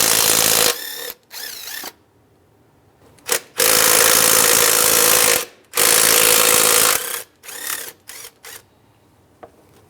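Ratchet clicking in quick bursts while removing 10 mm bracket bolts on a Honda Element, several loud close spurts separated by short pauses.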